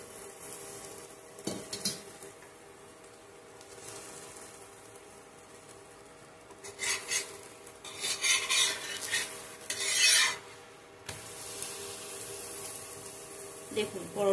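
A rice flour potato paratha frying in oil in a pan, a soft steady sizzle with scraping and rubbing of a spatula or spoon, louder rasping bursts midway, and someone talking over it.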